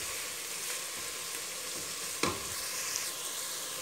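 Onions frying with salt in a pan, a steady broadband sizzle with one sharper clack midway, close and alone without talk.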